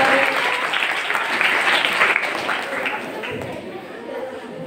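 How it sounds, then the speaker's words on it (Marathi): A live quiz-show audience claps for a correct answer, a dense burst of applause that swells loudly and then tapers off gradually. "टाळ्या वाजवून"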